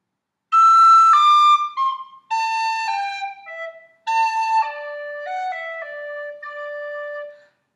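Tin whistle plays a phrase of Garret Barry's Jig in three short groups of bright, clear notes, close and unaccompanied.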